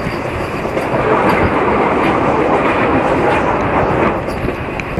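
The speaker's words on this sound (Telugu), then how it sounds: "మన ట్రైన్ అయితేనండి పుట్టల చెరువు హాల్ రైల్వే స్టేషన్ నుండి అయితే డిపార్ట్ అయిపోతుంది." A passenger train pulls out of Puttala Cheruvu station on the Narasapur to Guntur line, with a steady, loud rumble of wheels and carriages running close by throughout and no talk over it.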